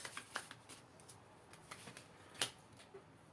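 Tarot cards being shuffled and drawn for a reading, giving soft papery flicks and snaps spread irregularly through the clip, with one sharper slap near the end, close and fairly quiet with no talking.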